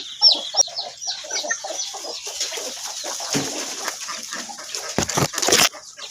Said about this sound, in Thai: นี่ไก่นะครับ